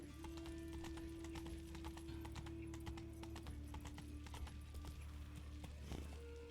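Geralt's horse Roach in The Witcher 3 moves with a steady run of hoof clip-clops over a continuous game ambience and a low music drone, with a short whinny-like sound near the end.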